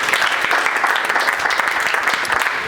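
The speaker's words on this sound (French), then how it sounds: "Somebody clap your hands for Jesus." Congregation clapping hands at a French-English church service, loud, dense and steady applause-like clapping sustained throughout with no spoken words over it.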